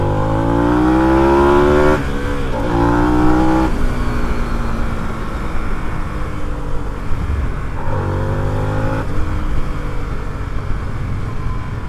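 A Harley-Davidson Sportster S motorcycle engine revs and pulls hard close by, its loud rising roar climbing through the gears, easing off briefly and then surging again, with steady wind noise underneath.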